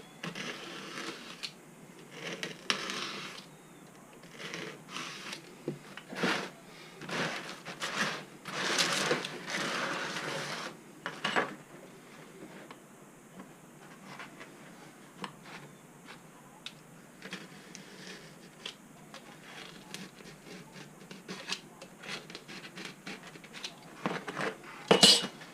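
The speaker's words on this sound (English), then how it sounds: "You may have to run your knife up to cut the corners out." A knife cutting out wing saddle center sections, with steady scraping and small clicking taps close by, repeating unevenly over a long stretch with no voices.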